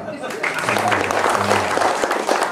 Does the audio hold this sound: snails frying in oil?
no